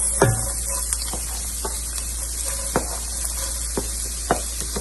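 Carrots fry in a hot pan for Trini-style fish pastelles, a steady soft sizzle with occasional sharp pops and spatula clicks, under a constant low electrical hum, with no talking.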